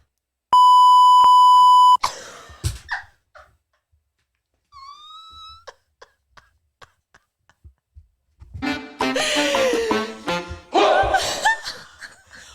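A loud, sustained electronic censor beep cuts in alone, followed by quiet shuffling, a short whistle-like tone and bursts of laughter.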